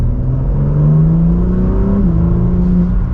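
A BMW M4 CSL engine revs loud and close, a steady throaty exhaust drone whose pitch climbs, then dips slightly and holds.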